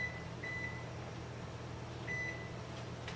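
Oven timer being set while scones bake, two short high electronic beeps separated by a pause, faint over a steady low appliance hum.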